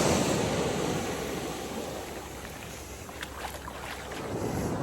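Waves wash ashore at French Beach in a broad, soft surf hiss mixed with wind buffeting the microphone, steady and moderately distant with no talking.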